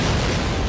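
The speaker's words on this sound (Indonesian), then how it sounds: "The lighthouse should be going up right about" A lighthouse blowing up in the PC game Call of Duty: United Offensive, a loud, dense, sustained explosion boom filling the short moment with heavy low rumble.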